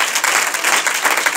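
A church congregation claps their hands in praise, making a dense, continuous wash of many overlapping claps at fairly loud volume and close range.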